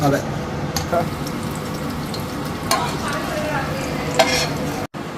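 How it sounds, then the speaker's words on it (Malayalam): Cashews and raisins sizzle and crackle steadily in hot ghee, with occasional stirring scrapes and a person talking over the frying. "അണ്ടിപ്പരിപ്പും കിസ്മിസും നമ്മൾ നെയ്യിൽ വറുത്തിട്ടിട്ടുണ്ട്"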